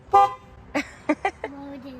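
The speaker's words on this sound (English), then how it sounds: "Honk the horn, kid." A Chevy Tahoe horn sounds in several short honks of uneven length, the last one held a little longer, with a voice briefly in the background.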